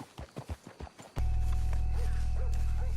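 Horse hooves clip-clop at a steady trotting rhythm in the Western game Red Dead Redemption 2, about six close hoofbeats that give way abruptly to a loud, constant low rumble.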